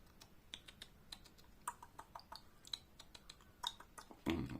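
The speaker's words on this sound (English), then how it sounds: "let's go back to the keyboard" Rapid clicking of computer keyboard keys in irregular bursts, close and fairly quiet, ending with a louder clatter, no talking.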